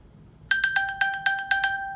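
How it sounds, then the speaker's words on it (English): Ping alert from an iPhone SE played so the phone can be found: a bright, repeating electronic chime sounding in quick regular pulses, about seven tones over a second and a half, clear and alone in a quiet room. "you're going to press it, and you're going to listen for your phone"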